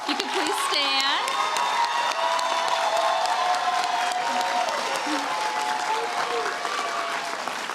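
Graduation audience at a 2024 college commencement applauds steadily and loudly for several seconds, a dense continuous wash of clapping with a few scattered whoops and cheers, and no speech over it.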